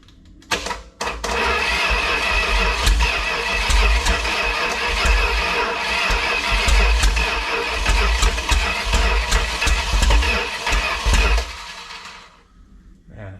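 A Big Block 400 engine on a run stand starts with an abrupt burst, churns loudly and roughly for about ten seconds, then dies away into quiet.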